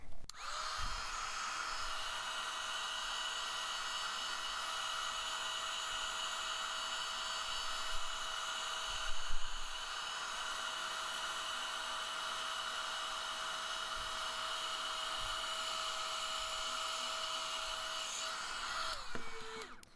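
Small heat gun blowing hot air onto shrink plastic charms, a steady high-pitched whining hum with a rushing airflow that holds nearly unchanged for the whole stretch, close and constant, cutting off at the very end.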